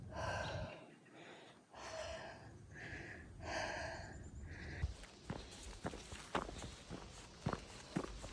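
Footsteps of a hiker climbing a steep dirt road on the Tahoe Rim Trail, crunching unevenly and close, with heavy breathing and gasps early on before the steps grow sharper and more distinct.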